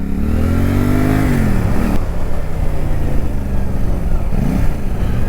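CFMOTO 450 SRS motorcycle ridden hard, its engine loud and close, rising in revs, dropping through a gear change, then climbing again with a second shift near the end.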